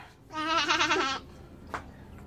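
A child from Romblon, Philippines imitates a goat with one wavering, quavering bleat lasting about a second, close and clear, followed by a short faint sound.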